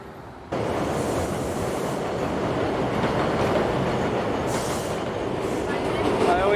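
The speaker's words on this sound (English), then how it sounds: "I always take the subway," Subway train riding underground, a loud steady rumble of wheels and carriage noise filling the whole stretch, with faint talk beneath it.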